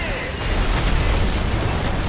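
Mortar shelling in the game Call of Duty: Modern Warfare 3 produces a loud, rumbling burst of explosions with dense low booms and debris noise, sustained through the moment.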